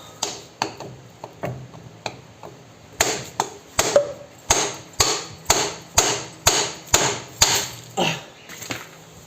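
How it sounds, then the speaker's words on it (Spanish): Metal hammer blows ring out on a SEAT Ibiza 6L drive axle, a few spaced hits, then a steady run of about a dozen hard, evenly timed strikes on metal. "podemos meter el martillo mejor por aquí."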